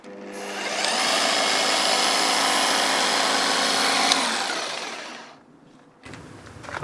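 A power drill bores a pilot hole through a camper van's side wall for a window installation, spinning up and holding one loud, sustained whine for about four seconds before winding down, followed by a brief rougher burst of noise.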